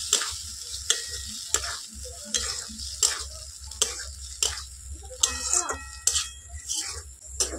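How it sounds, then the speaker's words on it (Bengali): Goat fat cooks down with spices in a pan for ghugni, the sizzle running underneath as a spoon scrapes and stirs in regular, close strokes. "মশলার সঙ্গে চর্বিটা খুব ভালো করে কষিয়ে নেব"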